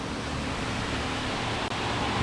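Small Wildcat Falls in North Carolina after rain gives a steady, even hiss of falling water close by, unbroken apart from a brief dropout.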